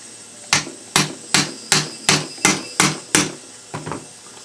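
A bearing is hammered into place with a socket extension used as a drift: eight sharp metallic blows in a steady rhythm, close and loud, with no talk.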